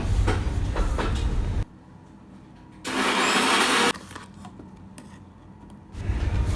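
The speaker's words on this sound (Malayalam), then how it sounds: "ഈ ഉഴുന്നിനി കുറേശ്ശെ മിക്സിയുടെ ചെറിയ ജാറിലിട്ട് നന്നായിട്ട് നരച്ചെടുക്കാം" An electric mixer grinder runs with urad dal in its small jar, giving a short, loud whirring burst between quieter stretches, with no one speaking.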